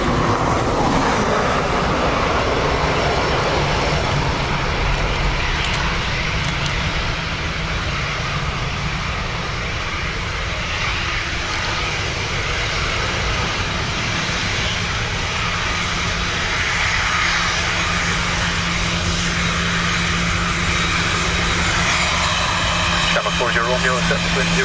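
Aircraft engines roar steadily at Dublin Airport in wind and rain, a loud continuous drone with gusty wind noise layered over it, a voice talking intermittently.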